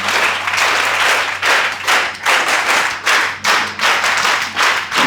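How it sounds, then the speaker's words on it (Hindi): A lively audience at an inspiring session claps loudly in several rhythmic bursts, dense close applause with brief dips between waves and no talk. "एक बार जोरदार ताली हो जाए वंस अगेन।"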